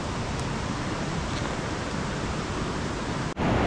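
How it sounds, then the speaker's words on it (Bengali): Hirni Falls in Jharkhand pours from a great height, a dense, steady roar of falling water heard close and loud, broken only by a brief dip near the end. "হিরনি ফলসের গোড়ায় এসে বসে আছি, অনেক উঁচু থেকে জল পড়ছে ওপাশে।"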